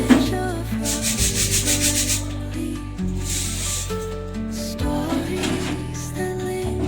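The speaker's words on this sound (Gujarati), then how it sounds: "ઘઉં દળે છે જો." An electric flour mill grinds wheat at home, a steady loud rasping, hissing drone that runs continuously with slight shifts in tone.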